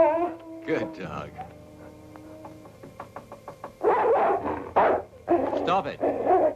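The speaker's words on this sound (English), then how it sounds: "Good dog." A dog barks in short bursts, loud and close, in a scene set around a girls' dormitory, with a voice talking over the noise between the barks.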